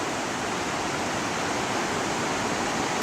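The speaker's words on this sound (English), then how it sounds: "This is what's coming out of the lake. It's like a little falls there." Steady, dense rush of the Waptus River spilling over a small falls as it leaves the lake, loud and continuous with no voices.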